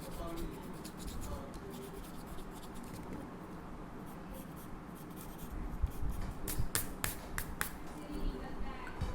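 Pencil scratching and rubbing on paper while sketching details and erasing a rough sketch, a steady close dry scraping texture with sharper taps and strokes near the end.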